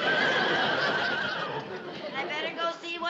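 A horse whinnies in a loud, drawn-out neigh that trails into shaky, quivering breaths, heard up close in an indoor comedy scene.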